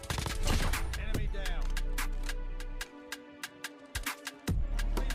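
XM4 assault rifle fire in Call of Duty Mobile: rapid sharp automatic bursts, loud and close, with a steady run of shots, a short pause, then scattered single cracks and renewed firing near the end.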